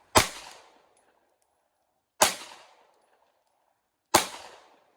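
Three sharp, loud pistol shots from a compact Taurus G3C/G2C handgun fired at a bullseye target from eight yards, evenly spaced about two seconds apart, each cracking and then fading into a short echoing tail.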